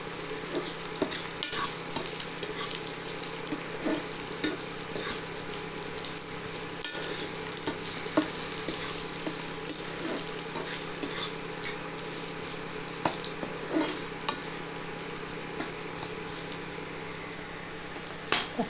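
Onions sauté in a pan for a brinjal fry, a dense steady sizzle of frying running throughout with occasional small clicks and stirring scrapes close by.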